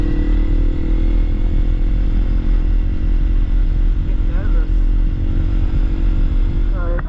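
A motorcycle rides along a dirt road in Mebbin National Park, New South Wales, its engine droning loud and close with a steady low rumble and wind buffeting throughout, while a rider's voice talks faintly beneath.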